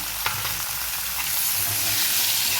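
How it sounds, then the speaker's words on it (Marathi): Chopped tomato goes into a pan of mixed vegetables and cashews frying in oil for a dhaba-style mixed veg curry, producing a loud, steady, dense sizzle with faint stirring scrapes throughout. "आता आपण जो टोमॅटो घेतलेला आहे तो सुद्धा आपण याच्यामध्ये घालून घेणार आहोत"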